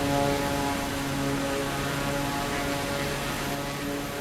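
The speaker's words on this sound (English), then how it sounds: "here we are taking off from U16" A propeller plane in Microsoft Flight Simulator 2024 taking off from a bush airstrip: a steady, loud engine and prop drone with a constant tonal hum, sustained and unbroken, with no talking.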